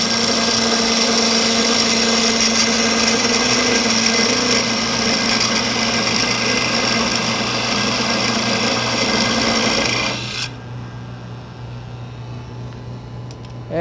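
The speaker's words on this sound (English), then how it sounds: "I can use a parting tool to establish that diameter right on my line." A wood lathe spins a small spindle blank while a parting tool cuts into it, a loud steady whirring hum with a bright cutting rasp that stops abruptly near the end, leaving only a lower motor drone.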